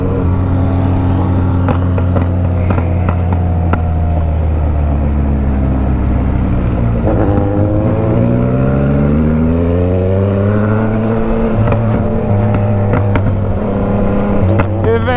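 A remapped Yamaha Tracer motorcycle engine under acceleration, a loud continuous drone whose pitch climbs and drops through several rising sweeps as it gains speed, heard close with no talking.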